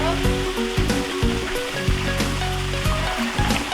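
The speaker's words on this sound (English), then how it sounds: "So what we thought was actually a waterfall turned out to be another hot spring in here." Hot spring water gushing out of rock in Black Canyon, a steady rushing splash like a small waterfall, close and loud, with faint voices behind it.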